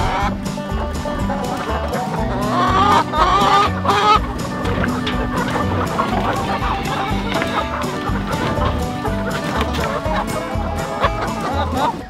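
A dense flock of chickens clucks and squawks continuously, many birds calling over one another at close range.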